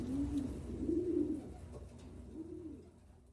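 Domestic pigeons coo in a loft, several low, rolling calls in slow succession, fairly close and moderately loud over a dull background hum.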